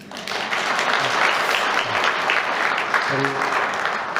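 Church congregation applauding the choir conductor and accompanist, a loud, full burst of clapping that swells quickly and stays thick, with a few low voices murmuring underneath toward the end.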